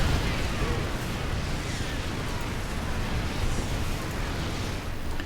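Units in the StarCraft 2 video game attacking and destroying a Great Hall building, a dense, continuous roar of explosions and battle fire that stays loud and steady throughout.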